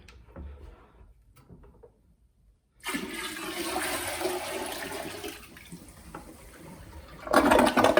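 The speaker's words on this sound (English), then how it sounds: "And then you just dump it in the toilet." Dirty water from a Hyla EST water-filter vacuum cleaner is dumped into a toilet after a quiet stretch: a loud, rushing gush of water takes over and runs for several seconds, ending in a louder final splash.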